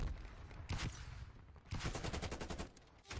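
Automatic rifle fire in the Call of Duty video game, with short rapid bursts of loud, close shots separated by a brief pause.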